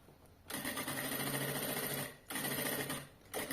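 A sewing machine runs steady stitching bursts along a bag seam. Two long runs are separated by a short pause, and a third starts at the end. The whirring rattle is close and even, with no talk.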